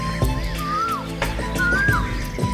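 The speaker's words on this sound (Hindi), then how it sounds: "कोयल" An Asian koel calls in a forest, with two clear whistled notes that rise and then drop off, spaced about a second apart over a low background and scattered soft knocks.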